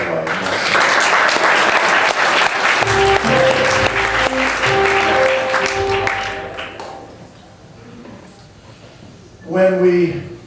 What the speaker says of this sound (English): Can we have a special round of applause